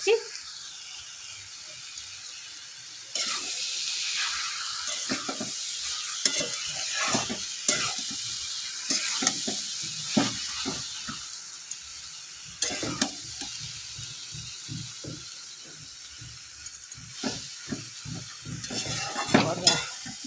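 Capsicum, peas, potato, carrot, tomato and cabbage fry in a pan with a steady sizzle. A spatula stirs and scrapes in repeated irregular bursts, close and fairly clear.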